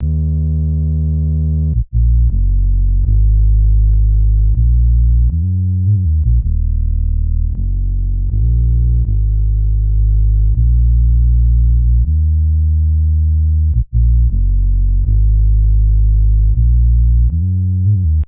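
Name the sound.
bass with distortion effect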